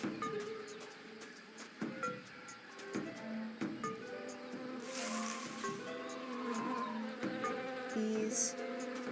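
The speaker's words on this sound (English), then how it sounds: "Bees." A dense, steady buzzing of many bees in Tales of Monkey Island hums throughout, with small clicks and tonal game sounds mixed in, fairly quiet overall.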